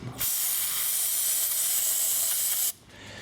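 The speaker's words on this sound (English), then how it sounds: "I'll spray some some brake clean in here to clean it up" A loud, steady aerosol spray of brake cleaner into a Dodge Dakota's suspension hisses continuously for about two and a half seconds, then cuts off abruptly.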